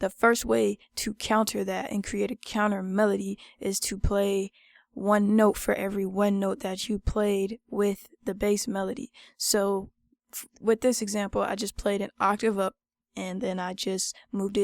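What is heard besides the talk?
None of the usual background noises is heard.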